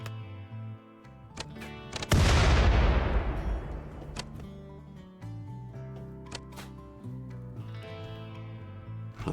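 A single sharp sniper shot in a zombie survival game cracks loudly and rings out with a long decaying echo, over a sustained tonal music bed with scattered lighter clicks.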